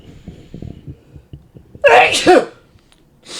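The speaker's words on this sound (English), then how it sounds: "Try not to sneeze." One loud, close sneeze bursts out after some quiet shuffling and low murmuring, followed by a brief breathy sound.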